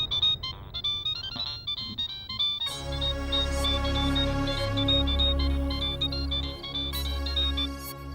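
An incoming-call ringtone on a phone plays a bright, repeating electronic melody, at first thin and then joined by a fuller backing, steady and clear with no talk over it.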